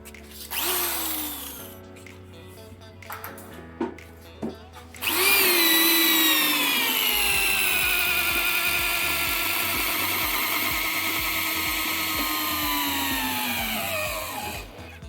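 A Bosch GSB550 or Ken 6713ED impact drill whines loudly and continuously as it bores into wood, after a brief start-up with a few bumps and music underneath.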